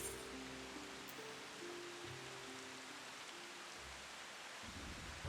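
Steady rain in a dark night scene of the video game Final Fantasy XIV: Shadowbringers, a soft continuous hiss under low musical tones and ambience, with no talk.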